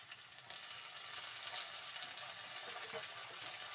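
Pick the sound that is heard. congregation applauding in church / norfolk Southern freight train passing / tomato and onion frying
tomato and onion frying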